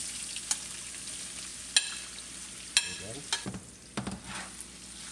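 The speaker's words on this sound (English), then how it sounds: "we'll start putting green chilies and ginger first, along with the potatoes" Green chilies, ginger and potatoes fry quietly in a pan for a South Indian broccoli dish, with a soft steady sizzle and several sharp scraping stirs and clinks of a utensil, and a brief word spoken.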